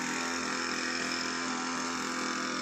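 A pit-digging machine boring holes for bamboo planting on a Konkan farm drones with a steady, unbroken engine roar throughout, fairly close and loud, with no voices.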